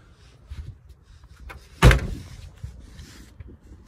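A single solid car door thumps shut on a 2021 Subaru WRX base, a short close slam standing alone against a faint background.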